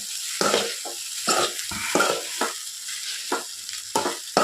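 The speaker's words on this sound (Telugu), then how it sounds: "మిక్స్ అయ్యే వరకు కలుపుతూనే ఉండండి" Egg fried rice is stirred in a frying pan, with bursts of sizzling and scraping coming in irregular strokes and short near-silent gaps between them.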